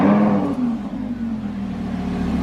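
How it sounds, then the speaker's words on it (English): A powerful BMW E92 M3 V10 engine revs hard up close, a deep roar that swells loudly then settles into a steady high-pitched hum. "V10, baby."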